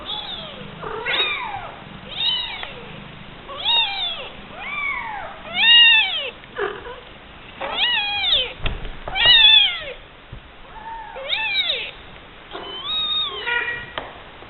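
Kittens meow again and again, several high, plaintive cries overlapping close by, with barely a pause between them.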